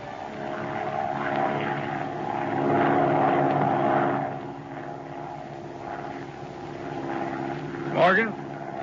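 Airplane engine drone in a radio drama, a steady propeller hum that swells and fades and runs under a voice speaking throughout.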